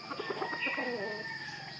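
Chickens cluck and coo over a steady background hum, with a brief burst of bird calls near the start and softer clucking continuing throughout.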